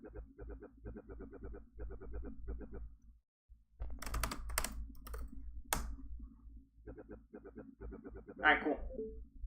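Rapid keyboard typing while playing the video game Pony Island, clustered in quick bursts of clicks with short pauses between, fairly close and moderately loud, with a brief chirping bird-like sound near the end.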